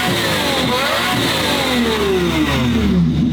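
A Lamborghini race car engine revs loudly and close, its pitch sweeping up and down through a continuous, powerful mechanical roar, with no voices.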